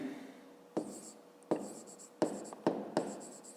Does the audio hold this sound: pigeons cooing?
no